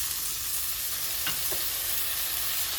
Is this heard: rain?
no